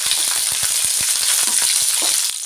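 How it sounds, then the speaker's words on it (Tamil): Spices and curry leaves fry loudly in hot oil with a dense, close crackle of irregular pops and a constant sizzle. "போட்ட பொருள்கள் எல்லாம் நல்லா பொரிஞ்சு வரட்டும்"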